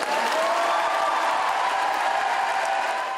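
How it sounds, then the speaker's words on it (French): An audience applauds after a thesis presentation at the "Ma Thèse en 180 secondes" contest, giving dense, steady clapping that fills the room and holds at a constant level without a break. "Et c'est parti pour 23 secondes d'applaudissements ininterrompus"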